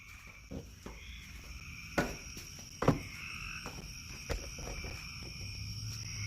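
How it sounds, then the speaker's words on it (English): A loud frog croaks repeatedly in an Illinois backyard at night, sharp calls recurring every second or so over a steady chorus of insects and crickets, with no one talking. "This frog is loud."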